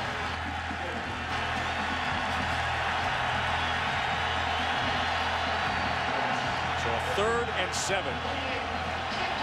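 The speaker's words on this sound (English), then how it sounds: "this crowd here tries to rally support for their defense" A stadium crowd at an Iowa State college football game against Oklahoma State roars steadily and loudly throughout, a dense wall of cheering that never lets up beneath a commentator's continuous play-by-play talk.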